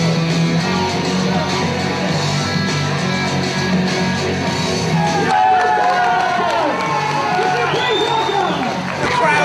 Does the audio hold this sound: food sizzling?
no